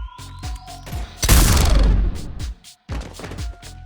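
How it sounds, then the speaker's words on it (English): Gunfire in the Mass Effect 3 video game, with a loud close burst of rapid shots and booming impacts, followed by a few more heavy reports. "Now open fire."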